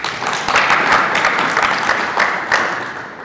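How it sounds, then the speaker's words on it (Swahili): An audience at a chemical-industry stakeholders' meeting breaks into steady, dense applause, many hands clapping close and loud throughout with no voices on top. "Naomba mwapigie makofi."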